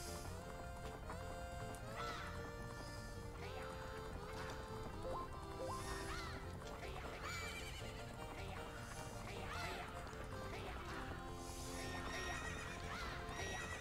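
A horse race in the video game Majora's Mask, an adult horse against a young one, brings loud neighing and whinnying with galloping hoofbeats, all layered over dense, constant game music for the whole stretch.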